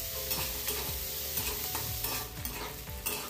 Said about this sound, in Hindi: गोटे कटा होता प्याज आउ गोटे सुखिला लंका पकईकी प्याज को किसी समय भाजबे